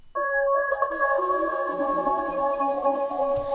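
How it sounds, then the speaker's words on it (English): A reversed piano texture from a sample kit swells in abruptly and holds as a thin, steady tonal pad with a bright, sustained shimmer, heard alone for a few seconds. "and then you just hear that reverse piano and this new texture"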